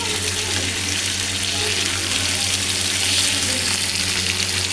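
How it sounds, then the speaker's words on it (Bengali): A katla fish fries slowly in oil, giving a dense, even, close hiss that holds steady with no pauses and no voices over it. "আমি এখন মাছটা আস্তে আস্তে উল্টাইয়া নেব।"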